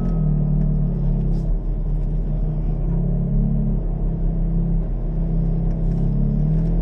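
A car engine hums and rises steadily on the Silverstone race track, with a loud interior rumble whose pitch swells and dips across several gentle accelerations and no talking.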